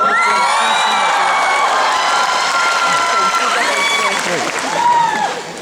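A concert crowd in Taipei claps and screams loudly for a Taiwanese singer, with high whoops and shrieks riding over continuous applause that swells near the end.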